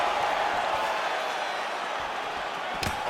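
Arena crowd in a PS5 UFC welterweight bout between Gilbert Burns and Jorge Masvidal: a steady, loud roar of the crowd throughout, with one sharp thud near the end.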